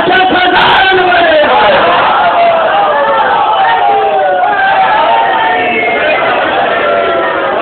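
A large majlis gathering in Jhang, Pakistan raises a loud collective shout of a religious slogan, many voices bellowing together in a sustained, reverberant roar that stays strong throughout.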